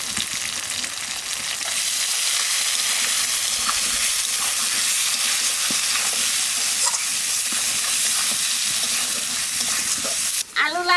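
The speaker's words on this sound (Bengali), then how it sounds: "লাল লাল করে ভেজে নিচ্ছি" Eggplant frying in hot oil with salt and turmeric for a Bengali eggplant-and-hilsa dish, giving a steady, dense sizzle that fills the whole stretch, with occasional stirring scrapes and a brief clatter near the end.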